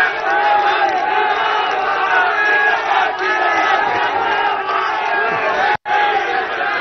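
A large crowd at a 2023 Chhattisgarh election rally in Patan roars, cheers and shouts together in a loud, continuous wall of voices that breaks off briefly near the end.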